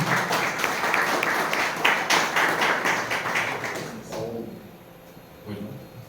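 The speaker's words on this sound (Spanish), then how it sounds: "Fuertes los aplausos." An audience at a teachers' school-zone meeting in Juárez, Chiapas applauds teacher Rubén Ruiz Saldaña: steady, fairly loud clapping from many hands that thins and fades out toward the end, leaving quieter room sound.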